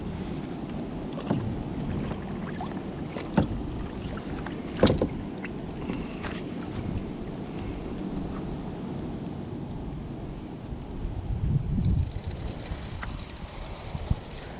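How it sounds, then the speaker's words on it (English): Wind gusts across the water around a kayak, a steady rushing buffet on the microphone with occasional paddle splashes and knocks, fairly loud and continuous. "Wind is definitely starting to pick up."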